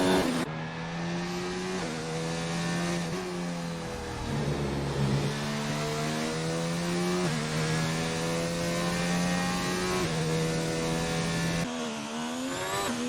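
A Formula 1 race car in an Austria race on an Xbox game, heard on an out lap: a loud, continuous high-pitched engine whine that rises through the gears, with brief dips at each upshift, steady and close throughout.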